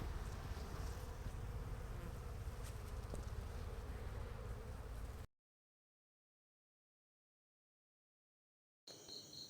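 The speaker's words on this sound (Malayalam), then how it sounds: "തേനീച്ചപ്പെട്ടി തുറക്കുമ്പോൾ ഈ പുക കൊടുത്ത ഐറ്റങ്ങൾ കുത്തുന്നത് കുറയ്ക്കും." Honeybees swarm around an opened beehive box that has been smoked, making a dense, steady, close buzzing that stops suddenly partway through and then briefly returns.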